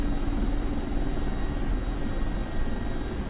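Steady, dense rotor and turbine roar from a Mi-24P Hind helicopter in the DCS World flight simulator, loud and continuous throughout, with no talking.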